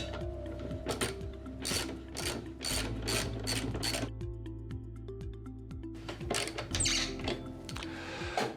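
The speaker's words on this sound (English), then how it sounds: "And now we will tighten it to the housing." A replacement motor for a Hayward Super Pump is tightened onto its housing with a ratchet, giving repeated clicking ratchet strokes and metallic scraping close by, with no talking.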